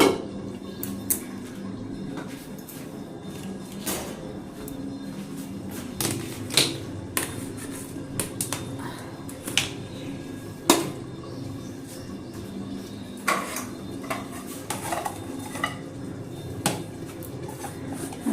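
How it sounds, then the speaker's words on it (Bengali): Kitchen pots being covered with metal lids, a scattered series of sharp clinks and clatters of lids and cookware over a quiet background, spread irregularly across the stretch without talking. "চলো এগুলো সব ঢেকে দিই, গ্যাসটাও বন্ধ করে দেবো।"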